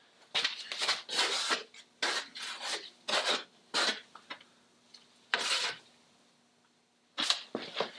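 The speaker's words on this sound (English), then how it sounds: "I'm skimming out my planks over here on the bench." Wooden deck planks for an International 2.4mR sailboat being skimmed on a workbench, heard as close, repeated rasping strokes in short bursts with brief pauses between them and no talking.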